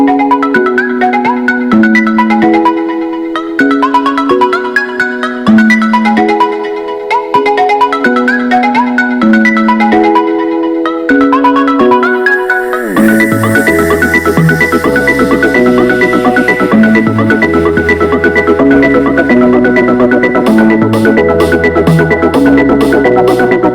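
A song plays from an Echo Dot 4th Gen smart speaker: a bright electronic melody in repeating phrases, then a fuller drop with bass and driving beat partway through, loud and close, with no talking.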